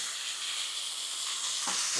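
Shrimp sizzle on a hot griddle with a steady, bright hiss that holds at an even level throughout, close and unbroken.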